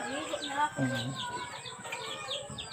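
Chickens cluck and chirp close by in short bursts, with faint murmuring voices mixed underneath.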